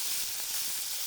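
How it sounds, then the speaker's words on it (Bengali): Chopped onions and chillies frying in hot oil, a soft continuous hiss and sizzle that stays even and faint throughout, with no voices. "এরপরে বন্ধুরা কিছু পেঁয়াজ, লঙ্কা কুচো তেলে আমরা দিয়ে দেব।"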